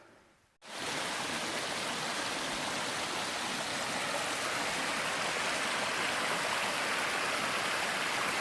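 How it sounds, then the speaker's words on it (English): Steady rushing water at a trail water source beside Watauga Lake, a constant close babbling stream that starts abruptly after a brief quiet moment and continues without voices. "But water's running good."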